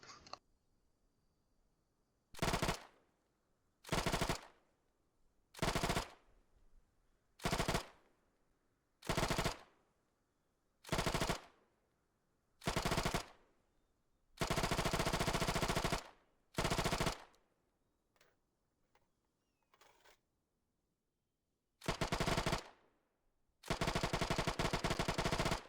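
A submachine gun firing Tokarev rounds in Arma 3, loud sustained automatic bursts, about a dozen, separated by short pauses, some bursts long and continuous, with no talk.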